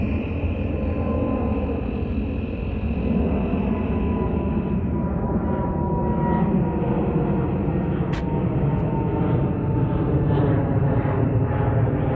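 A fixed-wing airplane passes over a seaside road at dusk, its engine a steady, fairly distant drone that persists throughout under a broad background rumble.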